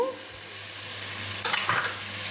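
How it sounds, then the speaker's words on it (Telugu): Tomato and carrot pieces sizzle in a pan of turmeric-spiced oil while cooking for a potato and carrot veg biryani, a steady crackle broken by a couple of brief stirring scrapes near the end. "టమోటా ముక్కలు కూడా వేస్తున్నా క్యారెట్ ముక్కలు కూడా వేద్దాము"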